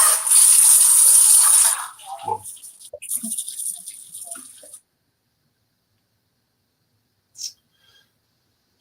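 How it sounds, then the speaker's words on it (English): Kitchen faucet running while something is rinsed, a loud broadband hiss for about two seconds, then scattered clinks and splashes that fade out, with a brief faint sound near the end. "if you hear some sounds in the background, that's the kitchen faucet"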